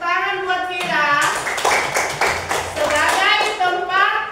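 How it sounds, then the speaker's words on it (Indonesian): Children in a classroom clap for a student, a brisk burst of hand claps between stretches of a teacher's speaking voice, close and fairly loud. "tepuk tangan buat Vira"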